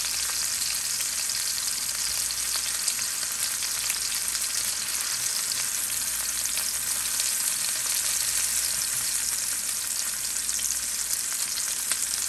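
Steak fries in a pan over moderate heat, giving a steady, dense sizzle that holds even and loud for the whole stretch with no talking.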